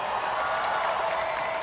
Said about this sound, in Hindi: एक बार आपके लिए जोरदार तालियां हो जाए